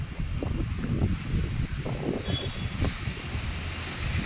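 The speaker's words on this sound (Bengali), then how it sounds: "সুন্দর হাওয়া দিচ্ছে এখন" A pleasant night breeze on a June evening blows steadily against the microphone, a constant low rumbling rush with soft rustling and gentle buffets, no talking.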